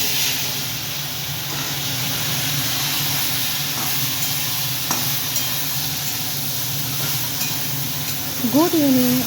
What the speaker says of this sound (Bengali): এখানে ফোড়ন দিয়ে দিলাম পাঁচ ফোড়ন বাবা আর শুকনো লঙ্কা